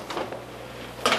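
An oven door thuds shut once near the end as a tray of pumpkin scones goes into a hot oven, preceded by soft handling clatter, close and fairly quiet.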